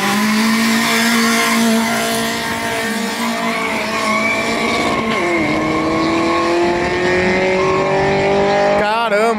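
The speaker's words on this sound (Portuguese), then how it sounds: "Olha como esse carro lança." An aspirated VW Gol launches in a drag race against a turbo car, its engine screaming loudly with rising revs and tires squealing hard. A voice talks over the noise near the end.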